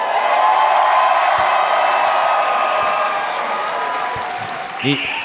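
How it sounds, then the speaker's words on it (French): A live audience at a show in Chicoutimi breaks into steady, dense applause with a few cheers, holding level throughout, with a brief voice or whoop near the end. "J'aimerais qu'on vous applaudisse."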